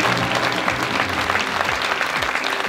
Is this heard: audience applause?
yes